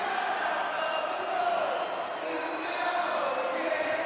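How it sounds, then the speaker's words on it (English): Arena crowd in WWE 2K25 roaring and chanting for Cody Rhodes, a steady dense wall of voices sustained throughout with no single voice standing out. "what a crowd serenading Cody Rhodes as always"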